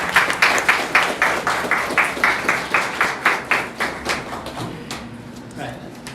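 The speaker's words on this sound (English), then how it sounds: "And a round of applause." At a graduation ceremony, an audience claps in a steady, evenly spaced rhythm, each clap crisp and fairly close. The clapping gradually loosens and fades over about six seconds.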